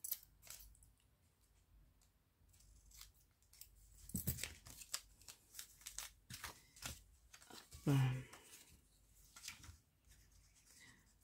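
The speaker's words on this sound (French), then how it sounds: "Là je vais quand même découper ce qui dépasse." Scissors trim the excess material from a small handmade pouch of recycled scraps, giving a series of sharp, close snips and rustles at an uneven pace.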